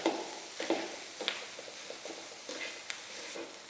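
Cooked rice pressed and broken up with a spatula in a frying pan with minced pork, giving soft scraping stirs and a faint sizzle at moderate level, with a few sharper scrapes of utensil against the pan.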